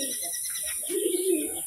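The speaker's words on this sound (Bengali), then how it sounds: "বাড়িতে দুটো নতুন কবুতর নিয়ে আসলাম এবং সাথে সাথে ছেড়েও দিলাম" Newly brought home pigeons, just released, give a close, clear throaty coo that swells in the second half over a quiet background with a high steady whine.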